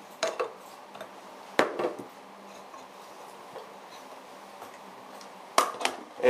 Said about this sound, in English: So I'll adjust it like that, flip it like that, and just place my iPhone up like that.